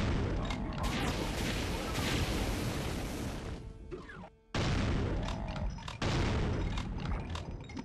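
Chaingunner enemies firing in the video game Doom II, dense, continuous rapid gunfire mixed with crashes and booms, loud and busy, broken by a brief near-silent gap before the barrage resumes.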